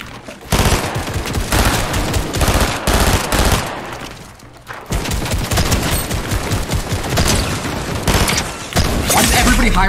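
Dense video game gunfire rattles in rapid automatic bursts with sharp sniper cracks, loud and close, with brief pauses between volleys and a voice faintly under the shooting.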